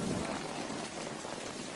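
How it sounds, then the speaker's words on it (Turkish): A heavy, steady tropical downpour near Hawaii hisses loudly and evenly throughout, with no separate thunderclap standing out. "Mega kıtanın üzerinde Hawaii yakınlarında sağanaklar bir ay boyunca dinmiyor."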